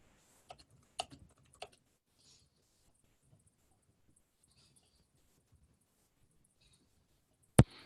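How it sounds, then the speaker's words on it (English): Sparse keystrokes on a computer keyboard, a few quick clicks near the start and then long quiet stretches, ending with one sharp loud tap. "I'll just quickly type a couple of sentences here"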